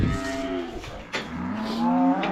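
Cattle on a ranch moo loudly and close by just after being worked during bull castration and calf weaning, with long drawn-out calls overlapping one another and no talk.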